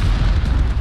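A grenade explodes in the video game Rising Storm: Attack on Saigon, a loud, close, low rumbling blast that fills the whole brief moment.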